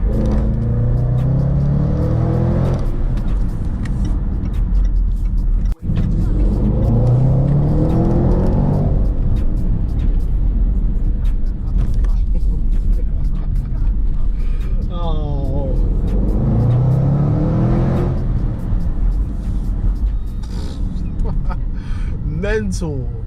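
A Range Rover Sport SVR engine revs repeatedly in rising surges with a deep, gruff growl, rumbling between bursts while someone talks over it.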